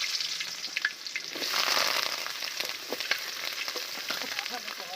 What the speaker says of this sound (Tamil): கடுகு பொரிஞ்சிருச்சு, வெங்காயம் சேர்த்துக்கலாங்க.